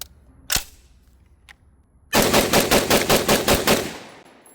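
Egyptian Hakim 8x57mm semi-automatic battle rifle firing, with a couple of isolated sharp clicks or shots followed by a rapid string of about eight loud, evenly spaced reports that cut off abruptly.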